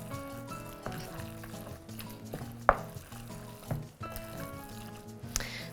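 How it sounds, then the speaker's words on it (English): A spatula stirs greasy sarma filling in a pan, giving soft scraping and squishing strokes at a quiet level over a faint sizzle, with a few louder scrapes standing out. "So this is as much as I can mix it with my spatula"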